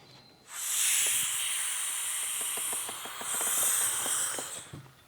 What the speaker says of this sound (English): You hear the air rushing back in there?